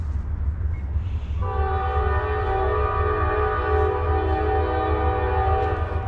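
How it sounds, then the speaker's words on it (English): A train rolls through a small Georgia town at night in Stockbridge, its horn sounding one long sustained blast over a steady low rumble of the passing cars. "let's watch this train come through the area"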